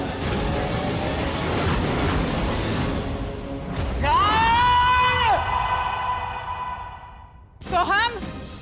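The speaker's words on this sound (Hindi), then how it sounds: "इतनी जोर से चिल्लाए, डर गए हम।" A child screams loudly and at length in a tense domestic scene, a sustained high wavering cry lasting over a second, followed by a brief second shriek, with noisy background voices beforehand.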